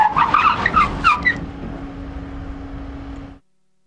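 A car fitted with Monroe shock absorbers brakes hard from 80 km/h on a test track, with short squealing tyre chirps from ABS pulses at first, then a fading rumble as it stops.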